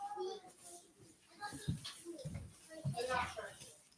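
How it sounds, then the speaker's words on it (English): Children's voices chatter and squeal in the background, lively but fairly faint, with bits of other household noise. "I do have children, so sorry about the noise in the background."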